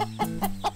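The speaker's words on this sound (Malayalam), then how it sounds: "നല്ല നാടൻ കോഴിക്കുഞ്ഞുങ്ങൾ" Cartoon chicks peep and cluck in quick, bright calls, three or four short chirps in under a second, close and clear with a low hum beneath.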